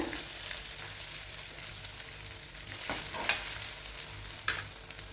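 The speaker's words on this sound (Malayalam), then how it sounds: "ഉള്ളി, തക്കാളി, വെളുത്തുള്ളി ഒക്കെ ഒന്ന് വഴറ്റിയെടുക്കാമെന്ന് വിചാരിച്ചാണേ" Onion, tomato, garlic and finely chopped ginger sauté in a pan, giving a soft, steady sizzle close by with a few sharper stirring clicks and scrapes, no talking.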